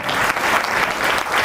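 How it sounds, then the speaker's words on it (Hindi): Steady, dense clapping from an indoor crowd applauding a guest, continuous and fairly loud throughout with no voices standing out. "हम चाहेंगे सर के लिए एक जोरदार ताली होना चाहिए।"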